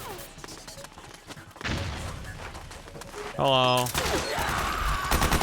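Bursts of suppressing gunfire in the Metal Gear Solid 4 video game, sharp rapid shots and thumps coming in clusters alongside game sound effects, with a brief spoken word over the action.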